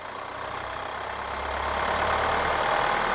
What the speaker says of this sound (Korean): 엔진 소리 들리시죠?